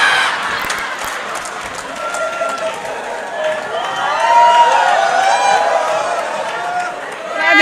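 Audience at a comedy show applauds and cheers in a sustained wash of clapping and crowd noise, swelling toward the middle and end, while a performer speaks over it.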